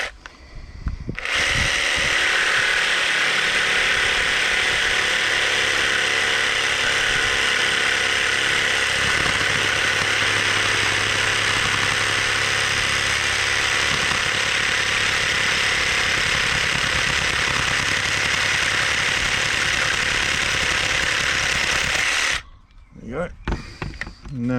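A power tool whines loudly and continuously at close range while cutting an angle on a wooden stick, running without pause for about twenty seconds before it cuts off.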